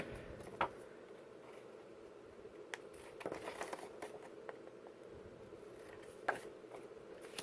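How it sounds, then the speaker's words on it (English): Scissors snip through paper with a couple of sharp cuts and light crinkling, close up and otherwise quiet. "And then we'll just grab some scissors and give it a cut."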